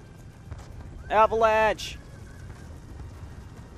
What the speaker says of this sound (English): A bunch of fucking horses too.